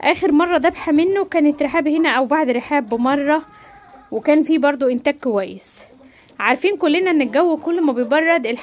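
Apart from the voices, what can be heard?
No distinct noise like a dog, phone or traffic.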